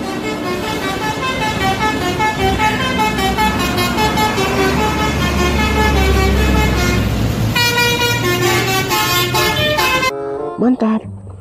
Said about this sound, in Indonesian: Wah, kali ini ada bus Mira